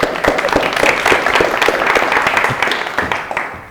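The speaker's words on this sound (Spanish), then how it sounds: "Entonces, un aplauso, ¿no?" A conference audience applauds after a talk at a tech event, a dense wash of many hands clapping at once, fairly loud and close, holding steady before thinning slightly at the end.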